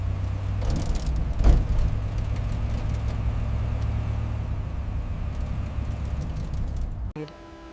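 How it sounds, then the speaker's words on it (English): A massive truck rumbles steadily toward a scrapyard depot where old cars are recycled into steel, a loud continuous low engine drone with a brief sharper burst early on, cutting off abruptly near the end. "the massive truck rumbles towards the depot"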